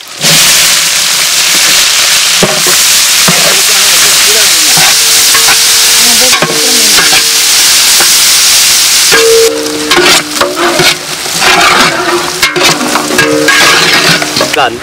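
Onions sizzle loudly in hot oil with curry leaves and green chilies, cooking village wedding food, a constant frying hiss broken by stirring scrapes and clatters of a utensil against the pan.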